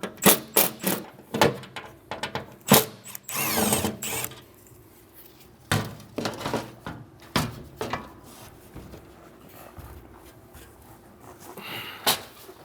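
A power tool removes the last screws from the plastic under tray of a BMW N55-engined car, giving short bursts of drilling close by, separated by pauses and handling clatter.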